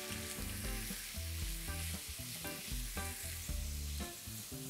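Finely chopped onions fry in hot oil with whole spices such as cinnamon, bay leaves and black peppercorns, giving a steady close sizzle with soft stirring and background music.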